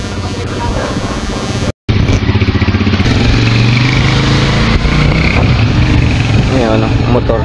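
A motorcycle engine runs loud and close while the bike rides through floodwater, with a brief dropout near the start, then a steady rough drone.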